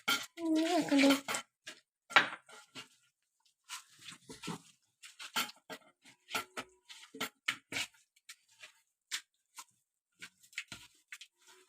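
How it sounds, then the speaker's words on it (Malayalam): A spoon scrapes and clatters against a bowl while biryani marinade with curd is mixed, giving irregular close knocks and clinks with quiet gaps between them. "ഇനി നമുക്ക് ഇതെല്ലാം കൂടി ഒന്ന് നന്നായിട്ട് മിക്സ് ചെയ്ത് വെക്കണം"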